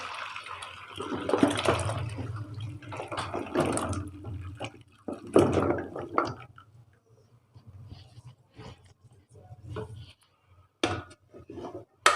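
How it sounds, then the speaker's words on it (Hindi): Boiled turmeric water poured off through a kitchen strainer, a splashing gush that fills the first several seconds and then trails into scattered drips and small clatters, close by, with no speech over it. "इसका पानी निकाल देंगे इस छलनी वगैरह में"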